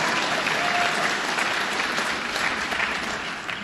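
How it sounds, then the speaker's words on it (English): Audience applause at a New York governor's State of the State and budget address in Westchester, a steady, dense wash of clapping from a large crowd that holds loud throughout, easing only slightly at the end. "Let's give him a round of applause, President Schwartz."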